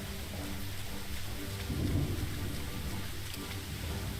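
Steady rain falls with a low rumble of thunder swelling near the middle and fading again, a continuous wet hiss over a deep distant roll, no voices present.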